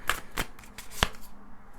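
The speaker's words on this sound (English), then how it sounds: "my gorgeous Leonie, I'm just going to shuffle these oracle cards, and I'm going to see what is going to be your oracle card of the week." Oracle cards being shuffled by hand, a few quick riffling bursts with short pauses between them, close and fairly quiet, with no talking.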